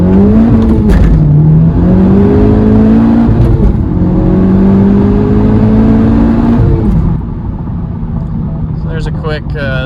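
A Honda Civic Type R pulls hard uphill from a rolling start, its turbocharged VTEC engine heard from inside rising through the revs in long climbing sweeps broken by quick gear changes, then settling to a lower drone near the end.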